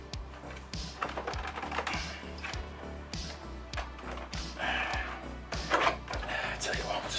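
Plastic parts of a Playmobil Star Trek Bird of Prey model snap and click together in an irregular series of light taps and knocks, with a person talking at times.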